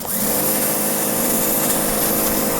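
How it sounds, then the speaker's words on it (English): A Sun Joe 2030 electric pressure washer sprays a shoe, a loud continuous close-up motor whine and hissing water jet that holds steady without a break. "this electric pressure washer that has up to 2030"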